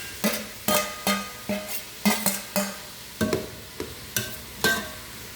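Chopped tomatoes frying with browned onions in a pan over a medium flame, with a spoon scraping and stirring in a steady rhythm of about a dozen close strokes over a soft sizzle, with no talking.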